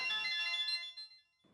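A phone ringtone chimes in a bright electronic melody, clear and close, then cuts off into near silence before a faint rustle.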